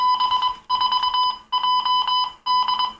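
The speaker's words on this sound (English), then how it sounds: "That's the SSTV signal that I'm trying to receive." SSTV signal from the ISS received on a ham radio set, a loud warbling electronic tone broken into four repeating bursts with short gaps between them, alone with no talk.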